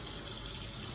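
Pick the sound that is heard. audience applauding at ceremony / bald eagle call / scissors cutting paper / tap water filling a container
tap water filling a container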